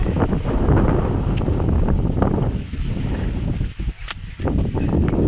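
Strong wind along a walk toward the farm fields roars steadily into the microphone, loud and gusty, dipping briefly near the end before surging again.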